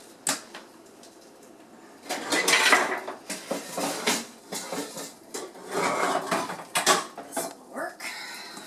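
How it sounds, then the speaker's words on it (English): A tight-fitting lid is set on cookware holding vegetables and it is slid into an oven, producing a series of close clanks, knocks and metallic clatters, with a brief spoken remark partway through. "now we're going to cover that with a nice tight-fitting lid and pop it in the oven"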